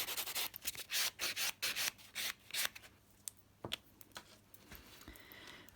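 A buffer rubs back and forth over a sculpted acrylic nail, making close, soft, rhythmic scratchy strokes in quick bursts that grow sparser and fainter toward the end.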